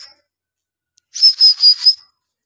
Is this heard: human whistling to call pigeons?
yes